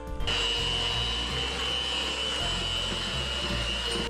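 An electric mixer beats egg and vanilla extract into wet sugar cookie dough, a loud continuous motor whine with a steady high tone and low rumble lasting the whole stretch, no talking.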